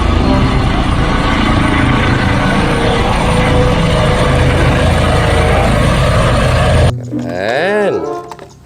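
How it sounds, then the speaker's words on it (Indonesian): A toy helicopter whirs steadily and loudly up close for about seven seconds, then cuts to a fainter warbling, sweeping electronic tone near the end. "Ada helikopter teman-teman."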